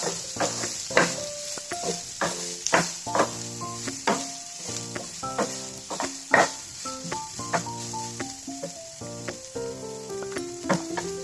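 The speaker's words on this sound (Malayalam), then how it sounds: "നന്നായിട്ടൊന്ന് ഇളക്കി കൊടുക്കണം. ഒരുപാട് അങ്ങ് ബ്രൗൺ കളർ ആവുകയൊന്നും വേണ്ട. ജസ്റ്റ് ഒന്ന് വഴന്ന് വന്നാൽ മതി." Ingredients are sautéed and stirred in a pan for a quick dosa recipe, with a soft sizzle and repeated spoon scrapes and knocks over steady background music.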